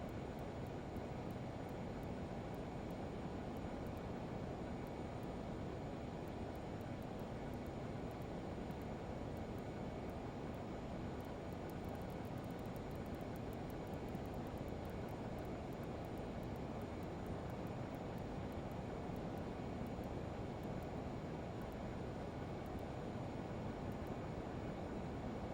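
A Learjet 35 in a flight simulator game, its jet engines giving a steady, dense roar that holds unbroken and loud throughout, with no talk over it.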